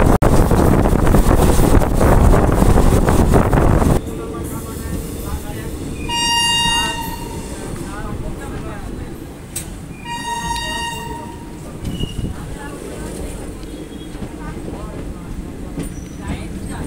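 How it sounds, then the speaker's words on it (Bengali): Howrah Jayanagar Express, train 13031, running into Prantik station, heard as steady rolling rail and wind rumble with two bursts of a high horn-like toot, recorded from aboard the train. "আমার ট্রেন কিন্তু এখন প্রান্তিক স্টেশন ঢোকার মুখেই"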